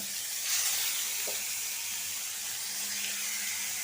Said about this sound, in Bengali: মাছ লবণ আর হলুদ দিয়ে মাইখে নিছি এখন ভাইজা নিব তাওয়াটাও গরম হয়ে গেছে